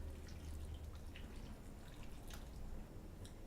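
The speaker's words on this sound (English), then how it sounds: "you're going to just gently pour it over your chocolate" Hot liquid, just heated until steaming, poured gently over chocolate in a bowl for a cake-decorating ganache, a steady soft wet trickle with faint dripping, close and continuous without talk.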